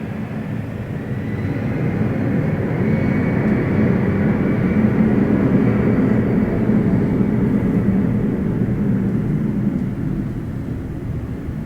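Jet airliner roaring down the runway on takeoff at LaGuardia Airport in New York, a loud, steady broadband rumble that swells and holds before easing slightly, with no talking.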